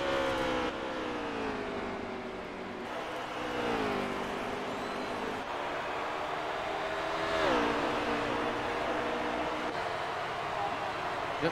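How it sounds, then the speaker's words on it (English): Race cars in the eNASCAR Heat video game circle Richmond in a pack down the backstretch, a steady layered engine drone with shifting pitches as the field passes. It is moderately loud and continuous throughout, with faint voices underneath. "we're watching the leader here of Fluffy as he drives his pack around Richmond down the backstretch"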